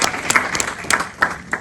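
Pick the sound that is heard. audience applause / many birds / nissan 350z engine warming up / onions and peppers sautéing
audience applause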